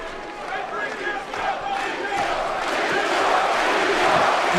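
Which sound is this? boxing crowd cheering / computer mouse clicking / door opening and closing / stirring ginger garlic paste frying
boxing crowd cheering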